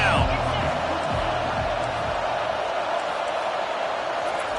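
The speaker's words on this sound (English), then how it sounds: "Decibels rising as the crowd gets behind this defense on third down." College football stadium crowd on a third down, a broad, steady roar of many voices with a commentator talking over it throughout.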